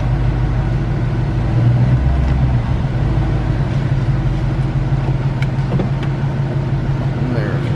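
A 2014 Ford Mustang GT with about 115,000 miles runs in drive inside a shop, its engine giving a steady, loud low rumble throughout with a slight swell early on.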